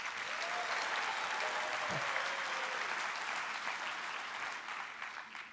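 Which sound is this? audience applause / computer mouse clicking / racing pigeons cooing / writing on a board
audience applause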